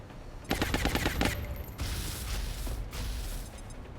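Suppressive gunfire in XCOM: Long War, a dense rattling burst of rapid automatic shots for about a second, followed by a rougher, continuous clattering barrage of weaker shots that runs to the end.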